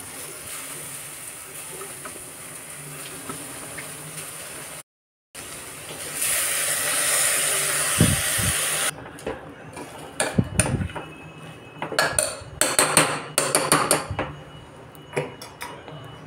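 Chopped spinach and dill drop into hot tempering oil and set off a loud, hissing sizzle that lasts a few seconds. Scattered clatter of a pan and utensil follows.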